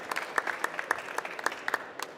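An audience at an industry stage event claps for a presenter. The applause is sparse and fairly light, made of distinct individual claps in an uneven patter over about two seconds.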